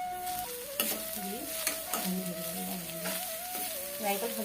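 Grated coconut and sugar frying in a pan while being stirred, soft sizzling with repeated scraping strokes of the spoon, close by, as a voice speaks over it.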